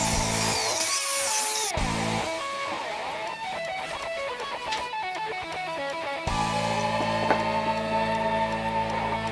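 A high-pitched biscuit joiner whines and cuts into wood in several bursts, motor revving up and down, close and loud with no talking.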